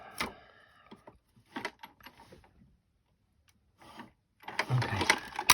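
A die cutting machine pressing through card, heard as scattered mechanical clicks and short whirring bursts with quiet gaps between them, ending in a louder grinding roll near the end.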